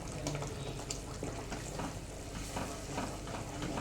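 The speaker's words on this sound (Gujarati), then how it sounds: "આ ધીમે તાપે આ ગ્રેવીને ચડવા દેવાની છે." A gravy with turmeric, garlic paste and red chili simmers over low heat in a pan, giving a soft, constant sizzle and bubbling with faint irregular pops, quiet and unbroken, with no talk.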